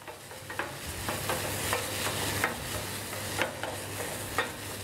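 Onions browning in a pan for onion soup give a soft continuous sizzle broken by repeated scraping stirs with a utensil, recurring roughly every half second to a second, fairly close and quiet.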